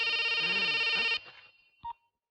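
A telephone rings with a bright, steady electronic tone for about a second, then cuts off abruptly, leaving a faint tail and one short click.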